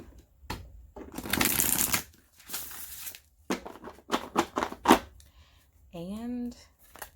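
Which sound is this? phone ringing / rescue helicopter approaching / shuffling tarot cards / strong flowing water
shuffling tarot cards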